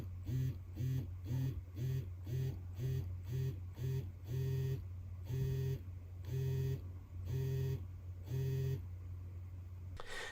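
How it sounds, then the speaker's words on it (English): A Casio W-735H digital watch buzzes its vibrating alarm against a wooden desk: a quick run of short pulsed bursts, then slower, longer buzzes, each rattling with a faint beeping tone over a low steady hum. "I'm going to put it on a wooden desk, and then you can hear how the vibration works with the alarm"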